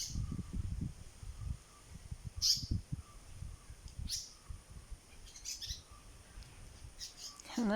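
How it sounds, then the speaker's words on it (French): Birds in Kerala chirp in scattered short calls, some high and sharp, over soft background rustling, fairly faint and without talking. "il y a tellement d'oiseaux"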